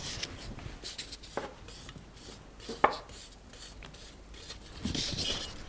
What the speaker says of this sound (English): with a palette knife or a sharp knife, just neaten the edge